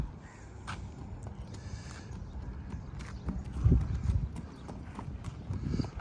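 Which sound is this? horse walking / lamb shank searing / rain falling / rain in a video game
horse walking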